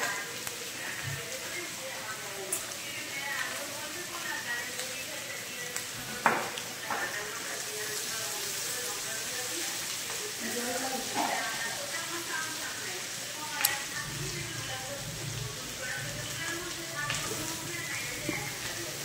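Chicken pakoras frying in a pan of hot oil give a steady, dense sizzle throughout, with a few sharp pops and clinks cutting through and a voice talking now and then.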